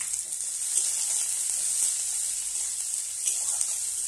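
Onions sizzle in hot oil, a steady, bright, close frying hiss that runs continuously with slight crackles and no talk over it.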